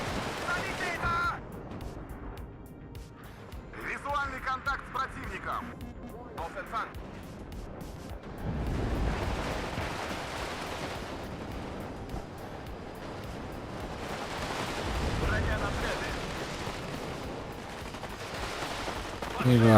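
Mortar and artillery fire in the Cold War strategy game WARNO, with repeated booming impacts and bursts of gunfire rolling through a dense battle soundscape under continuous talking.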